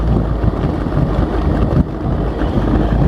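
A 1985 Ski Nautique 2001 boat engine gives a loud, steady low rumble, heavily mixed with wind buffeting the microphone.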